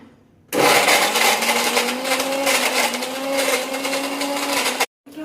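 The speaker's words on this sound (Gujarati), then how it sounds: "આ મિક્સર છે, હવે આમાં ક્રશ કરશે" A mixer grinder crushing dates starts abruptly and whirs loudly for about four seconds, its motor whine steady under crunching, then cuts off.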